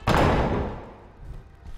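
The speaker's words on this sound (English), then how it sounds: "We'll shut that door." A door thuds shut in the dungeon game Exanima: one heavy, dull slam that rings out and fades, with a fainter knock near the end, fairly close and fairly loud.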